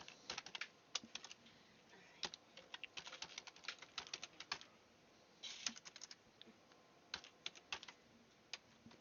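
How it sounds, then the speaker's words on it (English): Quick, irregular clatter of keys on a computer keyboard, close and crisp, coming in bursts with short pauses between runs of keystrokes, no talking. "I'm having trouble typing again"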